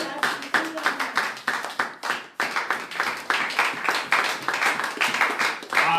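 Church congregation clapping in acclaim of the Lord during worship, a steady rhythmic hand-clapping with voices mixed in, loud and close throughout.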